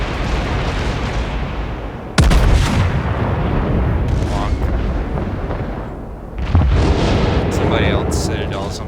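Warship naval artillery in a video game fires heavy booming salvos, with two loud cannon blasts several seconds apart, rumbling echoes and splashes in between, under someone talking.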